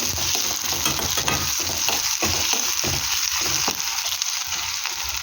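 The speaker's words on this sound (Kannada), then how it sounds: "ಸ್ವಲ್ಪ ಆನಿಯನ್ ಎಲ್ಲ ಚೆನ್ನಾಗಿ ಫ್ರೈ ಆದಮೇಲೆ" Onions fry in a pan for a horse gram curry, a loud, continuous close-up sizzle with brief crackles and occasional stirring strokes running throughout.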